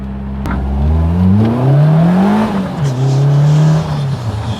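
A green Caterham Seven 420R sports car accelerates hard from close by, its engine note climbing through rising revs, dipping briefly at a gear change, then rising again loud and sustained.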